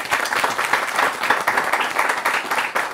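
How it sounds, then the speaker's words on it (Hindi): A studio audience claps steadily throughout on a Hindi television talk show about teachers, the dense, even applause filling the whole stretch with no voices over it. "ताली बजा सकते हैं।"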